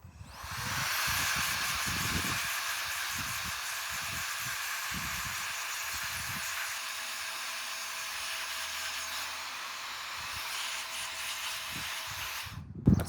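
Canned air blasts dust out of a hurricane flood-damaged PS5 in a long, close, steady hiss, with faint low knocks and handling noises underneath and a sharp bump at the end.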